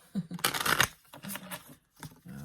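Brief riffling flutter of tarot cards being shuffled close by, a short burst followed by a few soft taps and fumbles.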